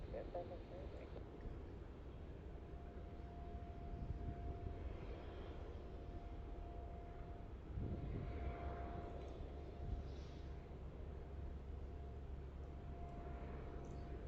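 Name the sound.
Boeing 737-700 airliner landing at Melbourne Airport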